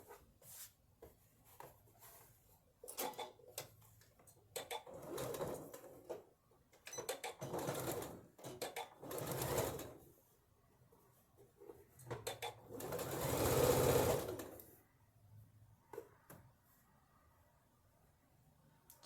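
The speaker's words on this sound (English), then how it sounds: "I'm gonna stitch about 1/8 or just over 1/8" A sewing machine stitches a seam about an eighth of an inch from the edge, running in several short bursts of varying length separated by pauses, with one longer, louder run near the end; close and clear, no talk.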